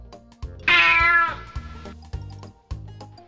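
A cat gives one clear, drawn-out meow near the start, followed by short soft sounds, with no talk around it.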